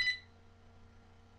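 A telephone gives a single short electronic beep at the very start, then only a faint steady hum remains.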